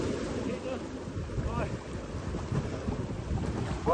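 Strong wind buffets the microphone over rough, crashing waves at sea during a cold-water storm, a steady roaring wash with no speech.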